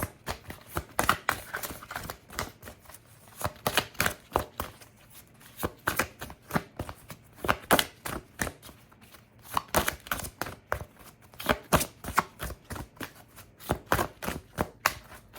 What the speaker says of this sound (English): I feel like I'm gonna pull one more card before we jump into this.